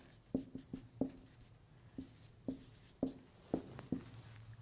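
Chalk or marker taps and strokes on a board as a chemistry teacher writes, a series of sharp, close knocks and short scrapes in an irregular rhythm, with no talking.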